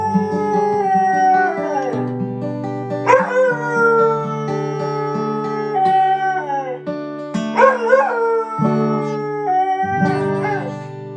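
Several dogs howl loudly and continuously in overlapping, wavering tones, breaking into rising whimpers and yips toward the end, with no talk.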